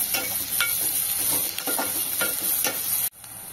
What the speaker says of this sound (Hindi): तो कांदा घालते. कांदा चांगला परतून घेऊया